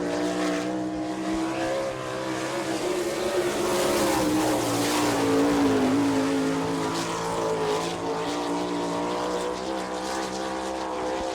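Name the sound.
sprint car with Ford-powered B&B engine racing around track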